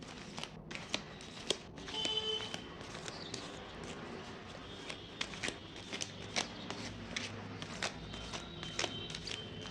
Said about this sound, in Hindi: तो मैं कार्ड शफल कर रही हूँ।